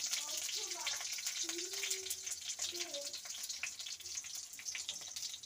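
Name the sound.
bay leaf, green chilli and five-spice tempering sizzling in oil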